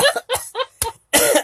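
A person coughs several times in quick, uneven bursts, close and loud, with short gaps between the hacking sounds.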